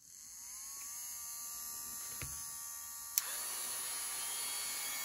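Small electric motor spinning a part of a Hobbytown E7 model locomotive for polishing with fine emery, a faint steady whirring hum that rises briefly and settles, with a small click partway through.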